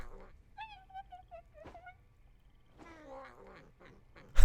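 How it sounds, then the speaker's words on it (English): Cartoonish cat laughter from the Meowkai skin in League of Legends: a run of short meowing, chuckling vocal bursts with a rising wail, fairly clear and close, ending in a loud burst. "The cats laugh."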